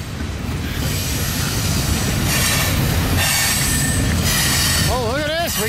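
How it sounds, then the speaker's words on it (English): A train rolls past close by on the tracks, a loud continuous rumble of wheels with rhythmic clacking and bursts of high metallic wheel squeal throughout. "We got another engine already, Blake."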